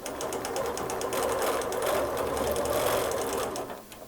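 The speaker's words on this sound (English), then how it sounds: "as I let the ruler guide my stitching" A sewing machine runs steadily, stitching along an Every Angle Good Measure quilting ruler with a continuous, close, even whirr and fast needle chatter throughout, and no talking.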